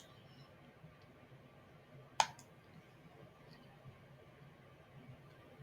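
A single sharp mouse click on a computer's Publish button stands out once against a quiet, faint room background.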